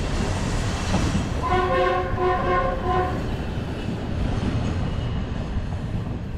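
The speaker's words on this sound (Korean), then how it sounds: "기차 다니는구나" A train moving along a line near Faro in Portugal, heard as a steady rumble with a short two-tone horn blast in the middle, no voices present.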